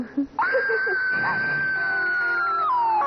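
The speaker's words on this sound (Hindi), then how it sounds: "अक्सर ये चुनारगढ़ में चीख सुनाई देती है।" A single high, sustained scream in a 1994 Hindi television fantasy drama, loud and drawn out for a few seconds before it bends downward, preceded by a few short faint sounds.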